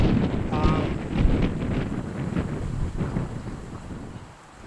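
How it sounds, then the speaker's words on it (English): Strong wind blows outdoors at an archery range, buffeting the microphone in a loud, continuous rumbling roar that rises and falls in gusts before easing slightly at the end. "There's a fair bit of wind here. I feel like the camera's about to get blown over."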